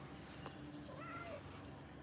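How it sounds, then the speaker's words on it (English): A 14-year-old house cat gives a faint, short meow indoors against a steady background hum. "My cat just came to visit me."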